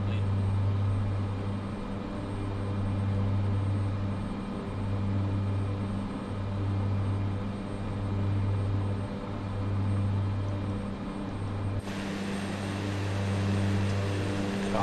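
Cessna Grand Caravan turboprop engine in Microsoft Flight Simulator, a steady loud drone with a low pulsing rhythm throughout, shifting tone near the end.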